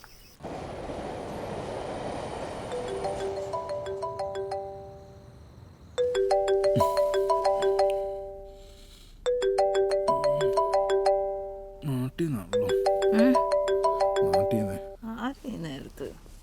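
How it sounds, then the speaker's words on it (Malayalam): A phone ringing out while someone calls from a scene in the Malayalam film Maheshinte Prathikaaram, repeated melodic ringtone bursts separated by short gaps. "ഏയ് നീ വിളിക്കേ, എൽദോനെ വിളിക്കേ."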